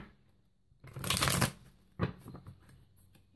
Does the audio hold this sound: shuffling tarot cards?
yes